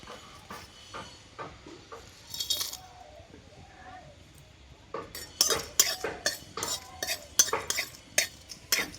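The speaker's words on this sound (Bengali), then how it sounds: "গোটা মৌরি গোটা জিরে আর শুকনো লঙ্কা একটা আর তিনটে এলাচ তিনটে লবঙ্গ আর তিনটে কাঠ মশলা এইটা আমি ভেজে নেব" Whole fennel, cumin, a dried chilli, cardamom, cloves and cinnamon dry-roasting in a pan, with repeated sharp spatula scrapes and clinks that grow louder and quicker toward the end, heard without talk.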